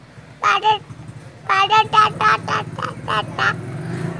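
A small child mimics a parrot with a string of short, squawky, quack-like calls in two bursts, close and fairly loud over a low background hum.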